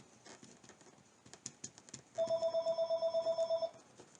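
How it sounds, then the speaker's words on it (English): Quiet tapping and shuffling sounds, then a telephone rings with a rapid electronic trill for about a second and a half, fairly close. "do apologize for the phone ringing here."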